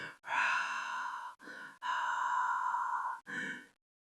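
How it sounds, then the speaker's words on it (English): A nun's heavy, distorted breathing rasps in a series of long, harsh breaths, each separated by brief silent pauses, close and loud. "She could hear the nun's distorted breathing following close behind."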